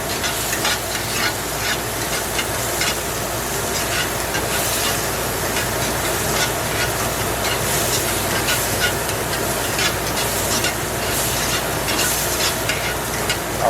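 Mushrooms and rosemary sauté in a hot pan, a steady close sizzle and crackle that runs continuously without pause, with faint stirring scrapes and no talking.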